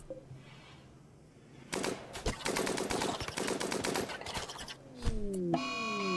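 Gunfire from colonists in the RimWorld video game breaks out after a quiet start as rapid bursts of shots, loud and dense for several seconds, followed by a few scattered reports and descending tonal game sounds.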